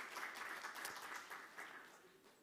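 Faint, steady audience applause fills a conference hall, a continuous wash of many hands clapping that holds for a couple of seconds and then tapers slightly.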